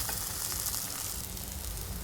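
Paratha masala frying in a pan just after turmeric goes in, giving off a steady, dense, close sizzle that holds without a break.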